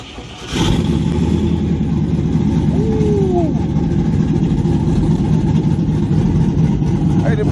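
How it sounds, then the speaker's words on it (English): Straight-piped car with long-tube headers and open exhaust cutouts at a street car meet, idling loud and close after a brief quiet start, then holding a steady, deep, unbroken rumble. "It's got long tubes, exhaust cutouts."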